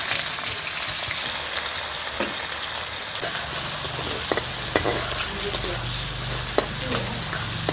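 Onions go into hot mustard oil in a wok for a village-style goat curry, and the steady frying jumps louder as they hit, then crackles on with scattered sharp pops.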